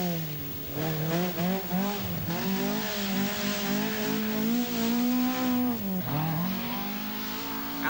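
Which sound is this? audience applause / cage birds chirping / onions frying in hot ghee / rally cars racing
rally cars racing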